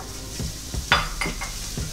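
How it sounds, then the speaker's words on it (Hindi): Freshly chopped garlic fries lightly in oil in a karahi for mutton karahi, a soft close sizzle broken by a few quick stirring scrapes and clinks of a utensil against the metal. "ये डालेंगे और इसको हल्का सा फ्राई करेंगे"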